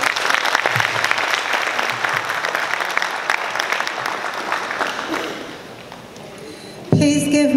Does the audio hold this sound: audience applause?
yes